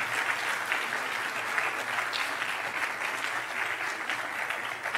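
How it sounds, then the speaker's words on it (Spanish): A church congregation, about fifty people, claps steadily together for five seconds, a dense, even, moderately loud patter of applause with no talk over it. "¿Por qué no le dan un aplauso al Señor?"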